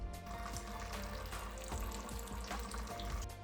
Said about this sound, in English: eventually the tube will drain the water out.